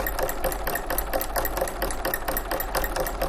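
A sewing machine stitches down a ruffled ribbon, with a close, steady, fast mechanical whirring and clatter running the whole time.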